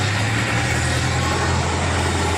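A tractor engine runs steadily at a dig site where soil is being loaded, giving a loud, constant low rumble beneath broadband mechanical noise with no breaks.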